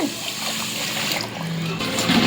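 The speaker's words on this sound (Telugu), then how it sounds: "నేను కొలత ప్రకారం ఏం పోయట్లేదు వాటర్, మామూలుగా బియ్యం మునిగే వరకు పోస్తున్నా." Water is poured from close by over washed basmati rice for chicken dum biryani, a short continuous splashing trickle that lasts about two seconds.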